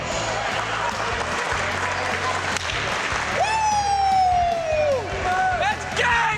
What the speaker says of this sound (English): Let's give both of these fine teams a well-deserved hearty round of applause.